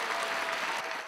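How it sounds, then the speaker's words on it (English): A school assembly audience claps in a brief, dense burst of applause that fades slightly at the end. "great round of applause"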